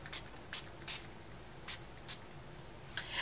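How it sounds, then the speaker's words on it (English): Tim Holtz Peach Delight ink spray is pumped in six short, soft hissing bursts at uneven intervals, faint and close, over a quiet background. "you want to spray it with Peach Delight"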